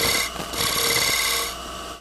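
A scraper shear-scraping wood on a spinning lathe, a short continuous rasping hiss lasting about a second and a half before easing off.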